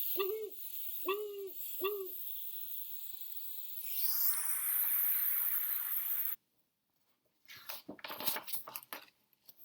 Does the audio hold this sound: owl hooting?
yes